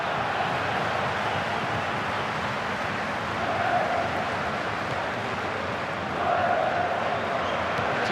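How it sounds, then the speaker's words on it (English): Stadium crowd in the FIFA 14 video game during a 1930 World Cup match, a steady wash of crowd noise with two faint swells of oohing. "Two oohs around the crowd"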